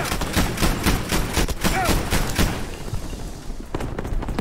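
Rapid gunfire rattles through a Battlefield 5 battle at an airfield, dense overlapping bursts and shots for the first few seconds, then thinning to scattered reports over a rumbling background.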